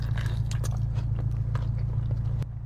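Arby's cordon bleu with mac and cheese is eaten up close: crisp bites and wet chewing sound over a steady low background hum.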